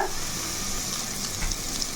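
Green chicken pulao masala frying in a pan gives a steady, close sizzle with a continuous hiss and light bubbling throughout, with no voices.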